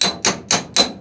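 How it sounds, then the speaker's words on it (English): Four sharp, evenly spaced metal hammer blows on the body of an abandoned Jeep CJ5, breaking through spot welds, each a loud ringing clang close by. "you can sort of get away with just hammering through some spot welds"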